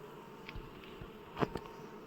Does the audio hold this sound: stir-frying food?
no